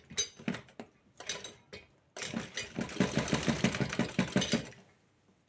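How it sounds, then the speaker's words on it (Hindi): A sewing machine stitches blouse fabric in short bursts, first a few brief runs and then a longer, steady rapid clatter of stitching, close and alone. "देखिए, बराबर में रख के और हम इसे सिलाई लगा लेंगे यहाँ तक"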